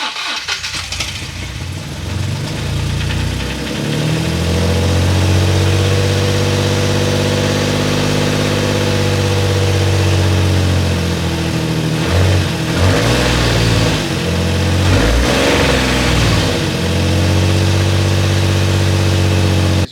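A Nissan 350Z engine with camshaft sensors swapped over from another car runs rough at a loud, close idle for twenty seconds, with a few uneven surges of revving partway through.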